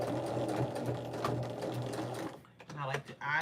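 A sewing machine stitches quilt binding, running in a steady fast whir that stops near the end, with a person talking over it throughout.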